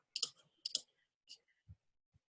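A computer mouse clicks several times in quick pairs, crisp and close, then falls quiet apart from a couple of soft low thumps.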